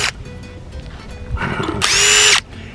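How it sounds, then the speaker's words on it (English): Cordless power drill driving lag bolts to stake down a Kodiak canvas tent, a couple of short whirring bursts ending in one loud half-second high-pitched drive, close up. "However, like I said, I have a drill"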